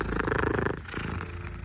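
A cat purrs very loudly right up close, a dense rhythmic rumbling that pulses steadily, easing slightly midway before continuing with no talk over it.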